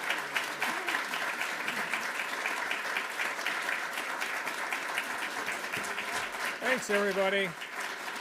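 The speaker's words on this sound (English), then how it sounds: "Give a round of applause." Steady audience applause fills an awards ceremony for distinguished alumni of a university school of education, a dense wash of clapping that holds throughout, with a brief spoken thank-you heard near the end.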